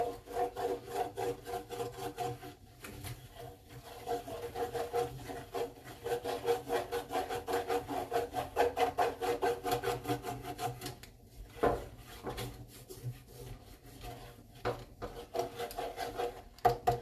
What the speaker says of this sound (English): Scrape that pan.